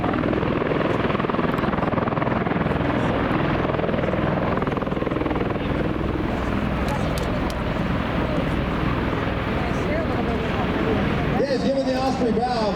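A Marine MV-22 Osprey tiltrotor in flight gives a loud, continuous rotor roar and heavy wash of air that holds steady throughout, close and overwhelming.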